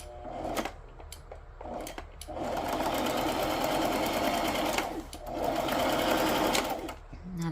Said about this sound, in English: So let's go ahead and sew around this also.